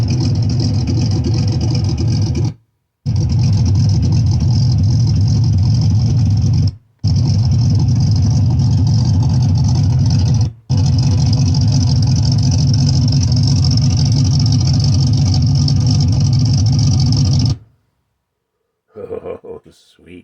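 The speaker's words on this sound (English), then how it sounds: "there's the engine noise and the exhaust" A 1958 Chevrolet Corvette with a 3-speed runs at a steady idle, its engine and exhaust loud and close. The engine rumbles continuously, broken by a few brief cutoffs, and falls quiet near the end.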